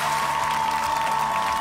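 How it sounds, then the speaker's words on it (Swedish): Brief, even patter of applause from a talent-show audience at Sweden's Got Talent 2010 for a young pianist, heard alone at moderate loudness. "Jag tycker bara det är värt en applåd."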